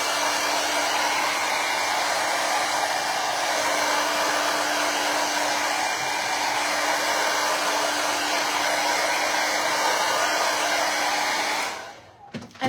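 A heat tool blows hot air over a freshly stained wooden charcuterie board, making a loud, steady whooshing roar that holds for about eleven seconds and then cuts off.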